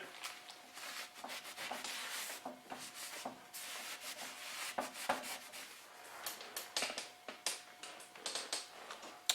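A geode is sanded and polished with 200-grit abrasive, producing a soft, continuous rubbing rasp with irregular scraping strokes and faint taps, close and fairly quiet, without talk.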